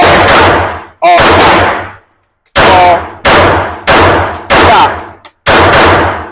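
A Glock 30 pistol fires loud, close single shots in an uneven series of about six, each sharp crack ringing into a short tail, with a brief spoken call heard between shots at an outdoor range.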